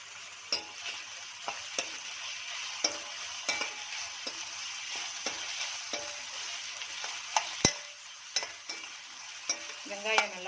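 Onions sautéing with a little salt in a pan for avalakki upma, a low steady sizzle punctuated by repeated spatula scrapes and clinks against the pan.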